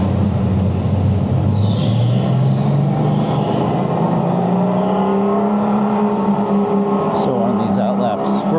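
Go-kart engines accelerating onto the track at a race start, a steady whirring drone rising in pitch as the karts pick up speed, loud and close from the driver's position, with wind noise and faint voices in the background.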